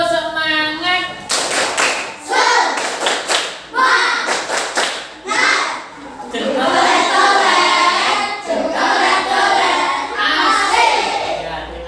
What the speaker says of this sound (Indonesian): Sebelum kamu tutup, tepuk semangat.